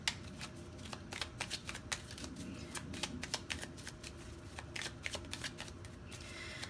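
Tarot cards shuffled and drawn during a pick-a-card reading, a dense run of quick, crisp riffling flicks and snaps, close and fairly quiet with no talking.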